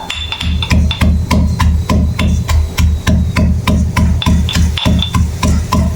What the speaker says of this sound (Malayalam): നമുക്ക് ഇതിൻ്റെ അകത്ത് ഇട്ടിട്ട് പതുക്കെ ഒന്ന് ഇടിച്ചു കൊടുക്കാം ചെമ്മീനെ